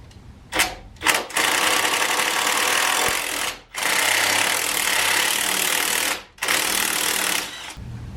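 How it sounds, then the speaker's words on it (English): An impact tool removes 13 millimeter bolts from the suspension of a Jeep Patriot during a coilover installation, giving loud, close bursts of rapid hammering, first two short blips and then three long runs with brief pauses between them. "So I will go ahead and start pulling some bolts. These right here are 13 millimeter."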